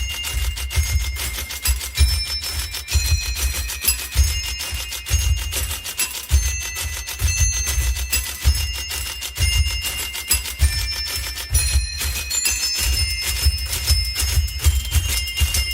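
Typewriters played as an orchestra: dense, continuous mechanical clacking and rattling in a steady rhythm, with high bell-like dings ringing through the busy texture.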